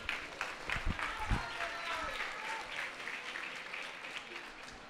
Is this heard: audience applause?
yes